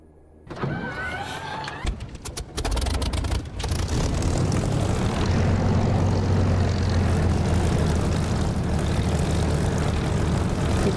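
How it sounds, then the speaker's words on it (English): Aircraft engine starting up in the DCS flight simulator game: a rising whine and clicks lead to a loud, steady engine roar that keeps building and holds to the end, no talk. "It should start. Crank the throttle."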